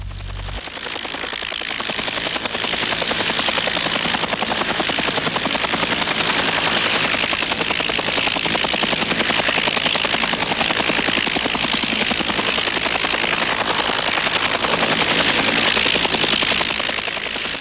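Military combat helicopter gunships fly close and loud, with a rapid, continuous rotor chop and engine whine that holds steady throughout.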